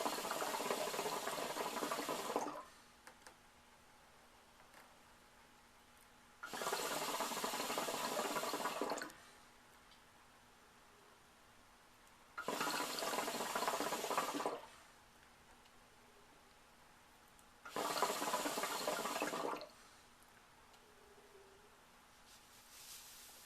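Water bubbling in a KM Double Wheat hookah topped with a Crown Hookah mini funnel, drawn through a blue hose; four separate gurgling pulls of about two seconds each, divided by quiet pauses.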